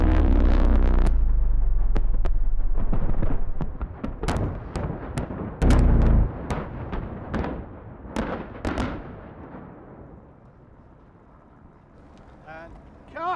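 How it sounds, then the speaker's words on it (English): Record-setting movie explosion of 24 one-kilogram high-explosive charges on a film set: a loud, sustained deep roar for several seconds, then scattered sharp cracks and debris clatter fading into quieter rumble. "Largest explosion in the history of movies."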